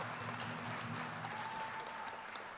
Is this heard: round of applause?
yes